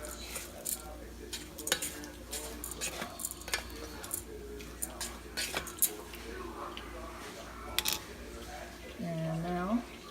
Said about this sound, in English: I'm going to stir this up again and coat it really well